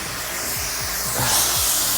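A steady, broadband hiss of a Wagner electric paint spray gun on medium spray, coating a log cabin, running continuously with a low vacuum-like droning motor hum underneath and no talking.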